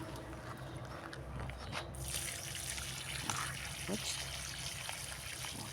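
Water trickles and splashes as it is poured by hand onto newly planted roses set out in autumn, a steady close dribble running throughout with brief louder gushes.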